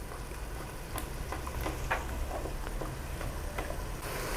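An egg frying in a pan beside sautéed vegetables gives a steady, fairly soft sizzle with scattered light ticks and pops, alone with no talk.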